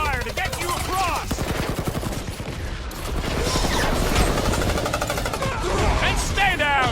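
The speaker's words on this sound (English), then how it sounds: "I'll lay down some cover fire to get you across!" Sustained rapid gunfire from a video game shootout in Marvel's Guardians of the Galaxy, loud and dense across the whole stretch, with bursts of mechanical clatter and a character's voice calling out over it.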